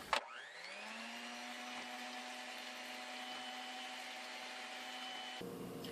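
An electric mixer whips egg yolks for a pie, spinning up quickly to a steady, close, whining motor hum that holds for several seconds before cutting off.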